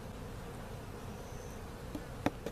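Bees in a weak hive with a laying worker and hive beetles give off a low, steady buzz, joined near the end by a few sharp clicks and knocks from handling the frames.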